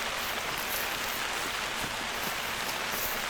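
Steady hiss of rain falling across an outdoor hunting landscape in theHunter: Call of the Wild, a continuous even wash with faint scattered drops and no voices.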